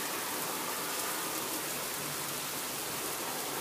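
A constant, dense wash of heavy thunderstorm rainfall, an even rushing hiss with no voices or breaks.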